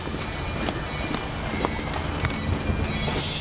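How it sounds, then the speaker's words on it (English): A steady low rumble of a small lighted model train running along its track at a holiday railroad display, with faint clicking and occasional squeaks over a constant hum. "Look at the lighted-up train."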